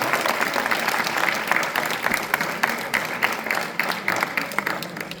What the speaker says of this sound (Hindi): आप जोरदार तालियों से पूरा सदन गूंज उठना चाहिए